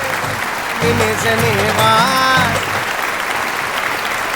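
Audience applause following a yoga performance at a talent show, a sustained broadband clatter of clapping that swells midway, with a sung or chanted voice and other voices over it.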